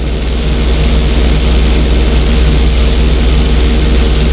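Steady, loud drone of a propeller airplane engine during a flight school lesson in Grand Theft Auto 5, holding a constant pitch throughout with no talk over it.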